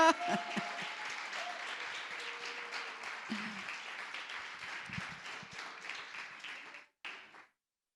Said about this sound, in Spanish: Ahora sí, un aplauso.